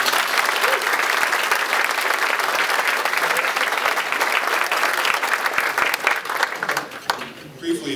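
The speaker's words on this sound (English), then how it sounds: "If we could have a little round of applause for that." An audience gives steady applause for about eight seconds at a corporate event, a full, even wash of clapping that thins out at the very end.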